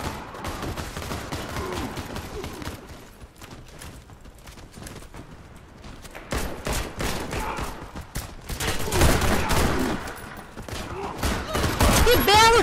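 Gunfire in a first-person shooter video game rattles in rapid bursts and scattered shots, louder toward the end, mixed with other game effects and voices talking over it.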